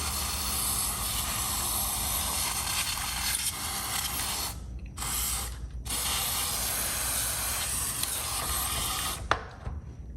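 Dry lube spray blasting into an old Cummins Model 336 drill motor, a loud continuous hiss broken by two short pauses, with faint mechanical rattles underneath.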